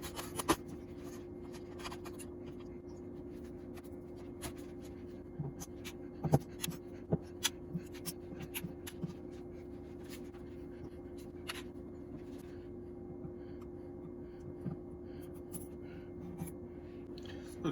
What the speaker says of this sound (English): first thing I'm going to do is get these strings off of here.